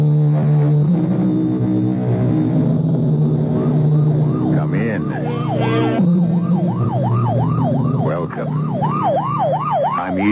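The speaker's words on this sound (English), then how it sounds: "You know it's a police car or ambulance on the way to or from an emergency" A police car or ambulance siren wails in repeated rising and falling sweeps, starting partway through and staying loud over a dense bed of music and voices in a CBS radio mystery drama.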